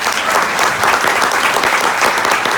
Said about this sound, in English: please welcome me, giving a round of applause for Mr. Theaster Gates and Linda Johnson Rice